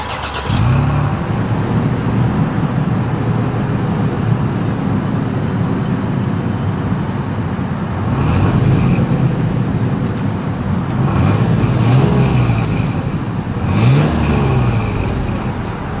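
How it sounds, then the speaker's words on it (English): Toyota SUV exhaust, from a Sequoia or 4Runner, running steadily close up, with a low engine drone and a few revving swells partway through and near the end; no talking. "As always, here is that exhaust clip."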